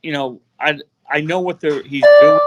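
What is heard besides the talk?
phone alarm going off in background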